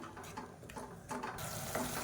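Salt and turmeric are sautéed in a pan while making tomato pongal, giving faint, soft sizzling with light stirring and scraping close by.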